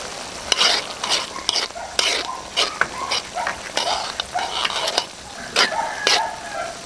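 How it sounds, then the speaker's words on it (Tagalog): Thickened escabeche sauce bubbling in a pan, with steady sizzling and spattering pops and scraping stirs close by, no voices. "Hintayin lang muna natin kumulo ito mga kabab."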